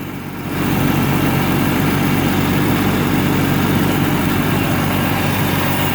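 A 1988 Jeep XJ with a fuel leak idles loudly and steadily up close, a dense continuous engine drone that settles in after a brief softer start, no talking.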